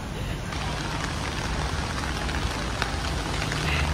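Steady rain falling outside a concert venue, a dense even hiss of drops pattering on surfaces and umbrellas, continuous and fairly close throughout.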